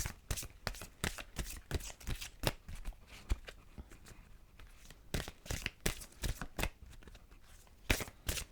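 Angel therapy cards are shuffled by hand, a quick series of crisp riffling bursts and soft taps, close and fairly quiet, with a brief pause midway.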